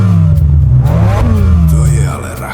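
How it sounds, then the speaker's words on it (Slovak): A tractor engine revs up under light throttle in a children's fairy tale, a steady mid-low rumble that swells and then eases off, close and loud, with a voice speaking over it throughout. "Nadšený naskočil na traktor, pevne chytil volant a jemne pridal plyn,"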